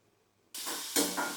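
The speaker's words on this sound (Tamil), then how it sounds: "இப்போ பெரிய வெங்காயத்தை வதக்கிட்டு இருக்கேன்" Large onion sautéing in oil with chana dal and mustard seeds, a sudden loud hiss as the onion hits the hot pan, then a steady close sizzle that swells briefly as it is stirred.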